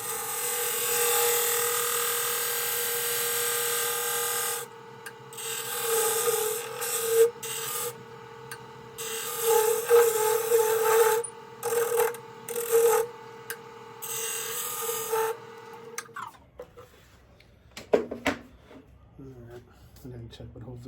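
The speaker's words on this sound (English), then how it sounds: "Use a skew chisel for the rest of the way." A wood lathe spins while a skew chisel turns a baby rattle: a steady motor hum with intermittent scraping and cutting bursts, close and moderately loud, then the machine stops and spins down.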